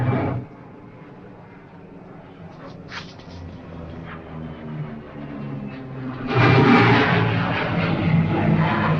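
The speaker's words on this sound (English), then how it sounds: "That's a pickup plane." A pickup plane in a classic 1940s mystery film drones steadily overhead, its engine noise swelling louder near the end as it passes close, with no talk over it.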